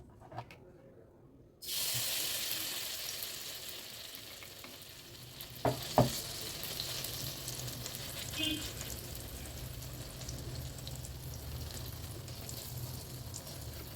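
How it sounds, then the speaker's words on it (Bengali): Batter for shrimp-filled patishapta pancakes frying in a little oil in a pan: a steady, close sizzle starts abruptly after a quiet moment and continues evenly, with a couple of brief clinks from a utensil. "অল্প করে তেল দিয়ে আমি ব্যাটারটা অল্প অল্প করে দিয়ে ভেজে নেব।"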